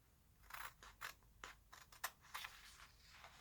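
Scissors snipping out fabric baubles for a sewn advent calendar, a string of quiet, close crisp cuts and blade clicks at an uneven rhythm with no talk.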